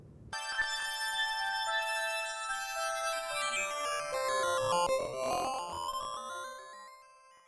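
A bright, buzzy synth lead with a gritty, bitcrushed digital edge plays a moving melody, with sweeping tones rising and falling as it builds toward the end.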